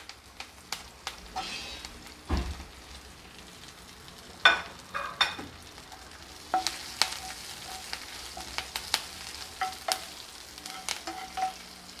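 Green chillies and curry leaves fry in hot oil in a pan with a steady sizzle, broken by occasional scrapes and stirring knocks from a spoon, close and moderately loud with no talk.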